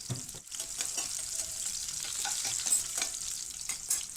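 Green chilli, garlic and ginger sautéing in a pan for mutton keema, a steady hiss of frying oil with scraping stir strokes throughout, close and clear with no talk.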